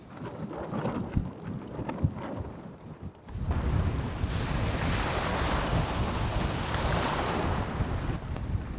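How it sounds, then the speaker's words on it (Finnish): Wind-driven waves on a lake or fjord in northern Norway, starting with gusty wind buffeting the microphone, then a loud, continuous wash of surf and wind for the rest. "Se on melko komia aallokko täällä."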